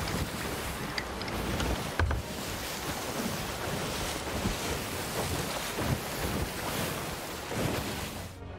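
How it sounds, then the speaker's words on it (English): Ocean waves and gusting wind from the sea in the video game Sea of Thieves form a steady, full wash of surf and breeze, with a few soft creaks and splashes and no talk. "Let's just take a moment to enjoy the sounds of the sea and nature."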